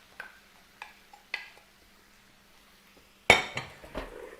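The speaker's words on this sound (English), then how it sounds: "Sugar separated out, so I'm going to have to give this a good stir." A spoon scrapes and clinks in a skillet while stirring a sauce whose sugar has separated, with a few sparse taps and then a louder scraping stir near the end.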